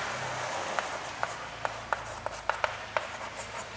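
Chalk or marker writing on a classroom board, heard as a quiet series of about ten short, sharp taps and strokes spaced irregularly over a low room hum.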